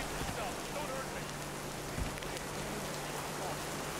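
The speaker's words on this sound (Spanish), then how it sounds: "Le voy a tener que quitar el sonido a la lluvia" Steady rain in the video game This Land Is My Land patters over a surface in a continuous wash of noise, with a faint low hum underneath.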